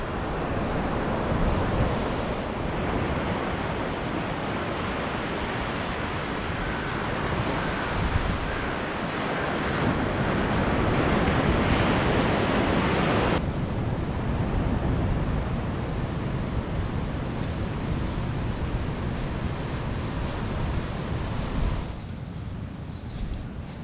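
Surf rolls onto the shore at Pebbly Beach in New South Wales, a loud continuous roar of breaking waves mixed with gusty wind buffeting the microphone, with no voices.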